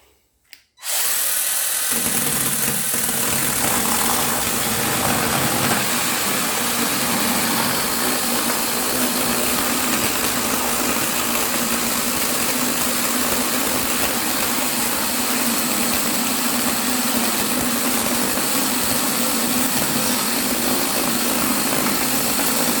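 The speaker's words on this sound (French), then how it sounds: "c'est une tronçonneuse" A Parkside PGHSA12B2 mini chainsaw starts after a brief quiet moment, then runs steadily and loudly close by for the rest of the time, with its motor holding a constant high whine and no talk over it.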